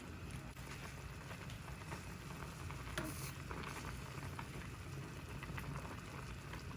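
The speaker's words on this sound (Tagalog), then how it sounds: "Hayaan lang po natin kumulo." Beef simmers in a pot for gyudon, giving a faint, steady bubbling and sizzling hiss that carries on evenly without pause.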